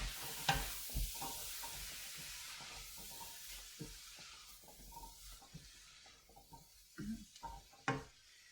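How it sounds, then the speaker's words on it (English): Beans and drained sweet corn stirred in a casserole pan, soft scraping and wet shuffling strokes with a faint hiss of heat beneath, a few louder knocks of the spoon scattered through. "Give that a little mix"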